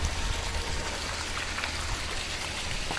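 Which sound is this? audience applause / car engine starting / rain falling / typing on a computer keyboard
rain falling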